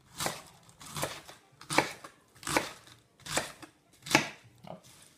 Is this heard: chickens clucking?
no